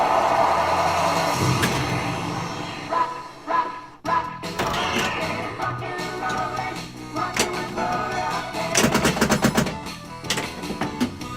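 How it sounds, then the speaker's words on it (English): A Rollergames pinball machine in play at close range, with a pop bumper firing on its own and sharp mechanical thumps, clacks and rattles mixed into continuous game noise. "It's got a pop bumper up there that's firing on its own sometimes."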